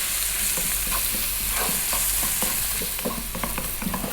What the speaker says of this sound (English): we're going to fry this around for about 4 minutes or so